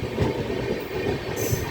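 The Simhapuri Express passenger train running from Vijayawada toward Gudur gives a steady rumble of wheels on rail, heard from on board with faint rhythmic clatter and a brief high squeal near the end.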